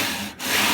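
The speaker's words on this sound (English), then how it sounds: "And then we'll just go over the top and sand the frets." A short, close abrasive rubbing of sanding guitar frets, two quick scraping strokes with a brief pause between them.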